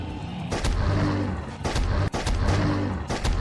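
Gunfire from a Unity FPS kit shooter game, several loud close bursts of shots with heavy low rumble, repeating in clusters across the moment.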